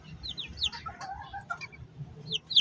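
Four-day-old backyard chicks peep in short, high, repeated chirps, fairly faint and close, with soft rustling underneath.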